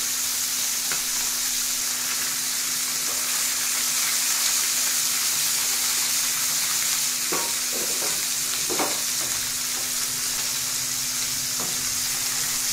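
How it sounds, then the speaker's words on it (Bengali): Fish frying in oil over medium-low heat gives a continuous loud sizzle, broken by several scraping knocks as the pieces are turned, with no talking. "এখন এই মাছগুলোকে আমি উল্টিয়ে পাল্টিয়ে খুব ভালোভাবে ভেজে নিব।"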